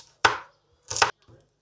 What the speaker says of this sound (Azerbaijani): Qırmızı soğanları lay-lay doğrayıram.